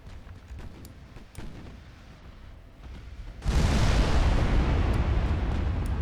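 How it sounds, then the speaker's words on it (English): Naval five-inch secondary guns firing in the Ultimate Admiral Dreadnoughts game: scattered distant thuds, then a sudden loud, sustained roar of gunfire and booms for the rest of the clip. "Five-inch guns are also starting to open up"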